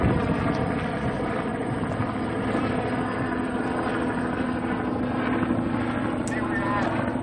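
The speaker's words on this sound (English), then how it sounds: "Looks like a helicopter overhead." A helicopter passes overhead at a pipeline protest site, a steady loud droning rotor and engine roar that fills the whole clip without letup, with crowd noise mixed underneath.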